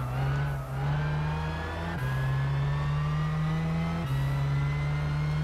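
Race car engines in the Gran Turismo 6 racing game at Silverstone, a sustained high whining drone that climbs in pitch, drops abruptly at each gear shift and climbs again, steady and prominent with no talking.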